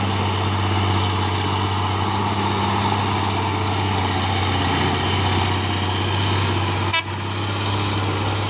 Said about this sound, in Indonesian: Truk Hino kan ini ya.